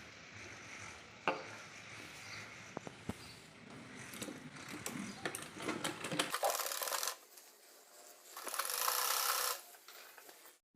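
A sewing machine stitches a baby boy's jhabla dress in quiet, uneven bursts of rapid mechanical whirring, with a louder, brighter run near the end.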